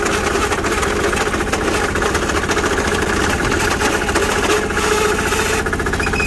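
A quad ATV engine running steadily at a loud, close idle, a dense continuous rumble with a slightly knocking texture and no pauses; the machine has just lost reverse gear.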